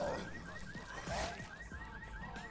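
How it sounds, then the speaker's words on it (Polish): Alarm blaring in the video game Dead Island Riptide, a repeating pulsing electronic wail that cycles steadily at moderate volume, with a few dull thuds underneath and no talk. "Where's the damn alarm switch? I need to kill the power."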